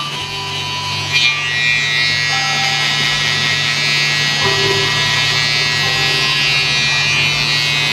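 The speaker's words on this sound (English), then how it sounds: "one of the reasons why I like using this BaByliss here, because you see how so easy it is for me to just take all this hair out" A BaByliss trimmer buzzes steadily and close up as it cuts hair during a skin fade. The hum stays continuous throughout, and one brief louder bump comes near the start.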